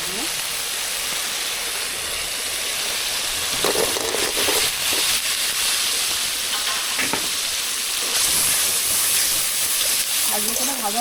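Potato pieces sauté in hot oil in a pan over a wood-fired stove, a steady, loud sizzle with occasional stirring scrapes, and a voice talking softly in the background.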